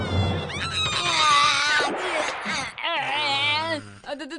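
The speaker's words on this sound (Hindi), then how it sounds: "ये तो इरियोमोट वाइल्ड कैट है।" A cartoon Iriomote wild cat gives a loud, drawn-out snarling growl and yowl that rises and wavers, followed by shorter angry cries near the end, with no talk.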